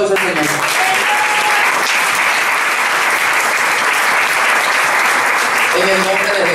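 A church congregation claps loudly and steadily in praise during a service, a dense, close, continuous roar of hands that fills the whole stretch with hints of voices at the edges.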